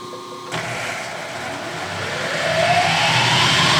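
A Clausing milling machine switches on after a half-second of quiet and runs with a steady mechanical whir and hum that grows slightly louder and fuller toward the end, with no talking.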